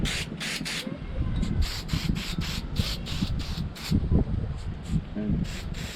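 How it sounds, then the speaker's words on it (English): Fish oil is sprayed onto vehicle brackets in short repeated hissing bursts, close and fairly loud, between rustling and handling noises. "we'll give these brackets a spray."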